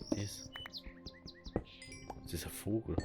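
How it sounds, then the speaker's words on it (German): Bird in the video game Minecraft chirping in a series of quick high tweets and short call notes scattered across the moment, moderately close, with a person speaking in between. "Das ist ein Vogel."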